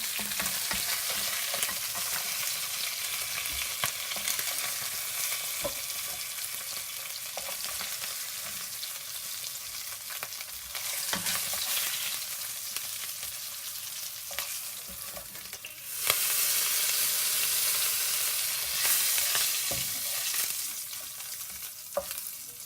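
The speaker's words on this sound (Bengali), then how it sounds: "আর কিছুক্ষণ ভাজি করে মাছটা আমি তুলে নেব" Koi fish fry in hot oil, giving a loud, continuous sizzle with frequent crackles and scraping stirs across the whole stretch, with a brief jump in intensity partway through.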